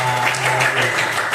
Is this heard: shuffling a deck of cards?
no